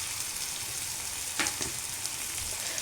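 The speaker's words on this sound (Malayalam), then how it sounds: "വേപ്പില ഇട്ട് കൊടുക്കുക" Curry leaves sizzling in hot oil for a prawn roast: a dense, constant close crackle and hiss, with a brief louder spatter burst partway through.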